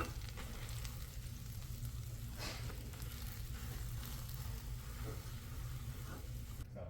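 Butter sizzles steadily in a skillet while a ham and cheese sandwich fries, a constant close hiss with faint stirring sounds and no talking.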